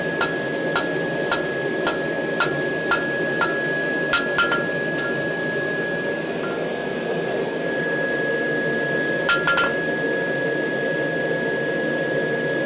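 Light hammer taps on hot steel ring out in a quick irregular series, knocking the corners off a square bar, then pause before two more taps, all over a steady roaring hum.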